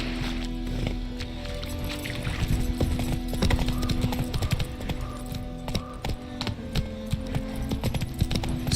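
A horse gallops in the video game Witcher 3, its hooves clip-clopping steadily and continuously over a dense, loud game soundscape.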